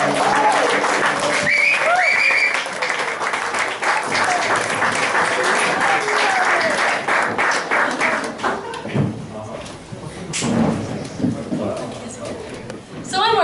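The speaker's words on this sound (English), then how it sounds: "one more big round of applause for Roy Picou" Audience at a jazz club claps loudly and steadily, dense applause filling the room with a few louder thumps near the end; a voice speaks over part of it.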